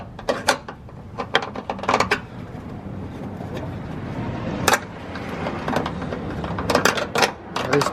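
A wrench works the front bumper bolts on an Infiniti G35, giving scattered bursts of sharp metallic clicks and ratcheting ticks up close, with pauses of quieter handling noise between them.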